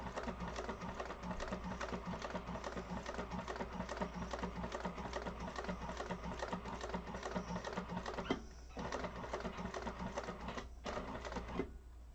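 Sewing machine topstitching a leather-style wallet: a fast, steady mechanical chatter of needle strokes running continuously, close up, with two brief pauses near the end, no talking.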